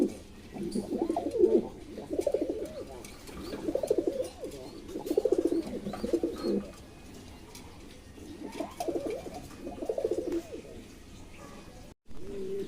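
A pair of adult blue satin pigeons coos in repeated rhythmic bursts with short pauses between them, close and clear, with no talk over the calls.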